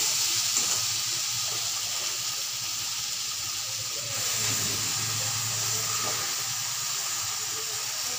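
Boiled spinach going into a hot pan for a Bengali vegetarian spinach and potato dish, giving a steady loud hiss and sizzle that runs throughout without a break.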